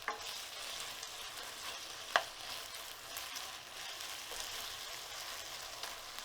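Vegetables and chilies fry in a pan, giving a soft, even sizzle with stirring rustle and one sharp clink partway through.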